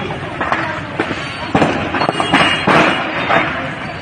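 Sharp bursts and cracks of LPG gas cylinders exploding go off irregularly amid the roaring, crackling din of a major fire in huts, with voices shouting faintly underneath.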